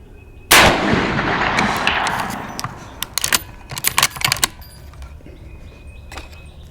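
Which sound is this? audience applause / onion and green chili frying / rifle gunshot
rifle gunshot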